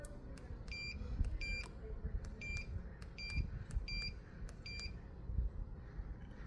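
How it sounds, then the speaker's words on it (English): AKAGear smart deadbolt door lock keypad giving short, sharp electronic beeps, about eight of them at fairly regular intervals, each confirming a pressed button, heard close up over a low background rumble. "it makes a beep every time that it accepts the button that you pushed"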